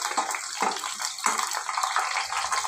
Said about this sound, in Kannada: ಈ ಥರ ಎಲ್ಲ ಚೆನ್ನಾಗಿ ಫ್ರೈ ಮಾಡಬೇಕು ಎಲ್ಲ ಫ್ರೈ ಆಗುತ್ತೆ ಎಲ್ಲ ಕ್ರಿಸ್ಪಿ ಆಗುತ್ತೆ